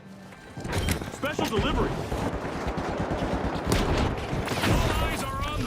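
Frag grenade thrown and exploding in the shooter game The Finals, its blast buried in a dense stretch of rapid gunfire and combat noise, with a voice talking over the action.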